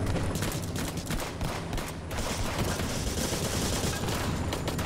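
Full-auto CZ pistol fire in a video game, rapid dense bursts of shots ringing loud and continuous for several seconds.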